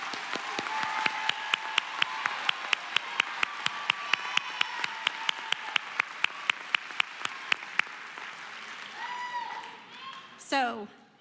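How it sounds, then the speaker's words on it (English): Audience applause at a 2019 HiSET graduation ceremony as a steady, evenly paced clapping that runs under a voice, then fades out near the end. "please join me in applause to join me in saluting our 2019 graduates"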